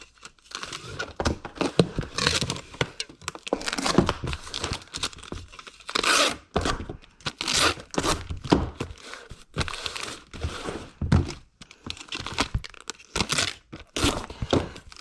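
Packing tape is pulled and torn across a shipping box in repeated loud ripping and crinkling bursts, close up with short pauses, and no one speaks.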